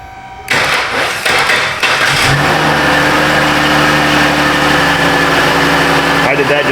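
A starter cranks the engine of a 2013 Dodge Grand Caravan, which catches and settles into a steady, close idle, with people talking over it.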